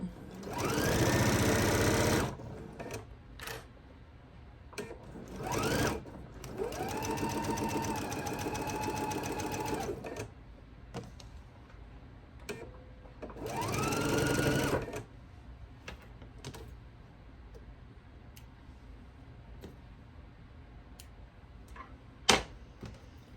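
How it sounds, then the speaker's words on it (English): A sewing machine runs a quilt block seam in several close bursts of fast, even stitching, from short to several seconds long, broken by pauses with soft fabric handling and a sharp click near the end. "Okay, we'll go ahead and sew our seam."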